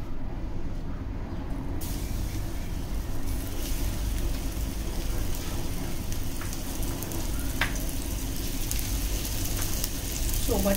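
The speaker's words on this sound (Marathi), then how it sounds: "आणि आता दोन्ही बाजूने मस्त लाल कुरकुरीत होईपर्यंत आपल्याला फ्राय करून घ्यायचं आहे." Steady, dense sizzling of coated soudale fish frying in coconut oil on a flat tawa, constant and fairly close throughout, with a few sharper crackles and faint voices in the background.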